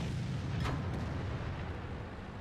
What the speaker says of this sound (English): at least the artillery is finally paying attention to you